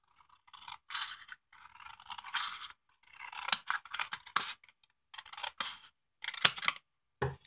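Scissors cut through cardboard box panels being trimmed for book covers, giving a series of close, quiet snips and scraping slices with short pauses between the strokes.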